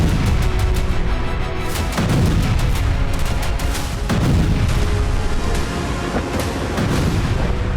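Cruise missile strike explosions in a war zone, a dense, continuous barrage of loud booms and rumbling blasts, with heavy impacts recurring roughly every two seconds throughout.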